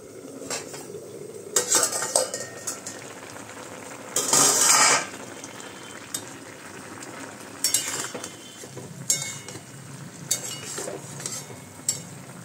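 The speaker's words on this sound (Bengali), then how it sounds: "এই দেখো মেথি শাক আর বেগুন দিয়ে ভাজা হচ্ছে" Fenugreek greens and eggplant fry in a pan while a utensil scrapes and clinks against the metal in several short bursts over a faint sizzle.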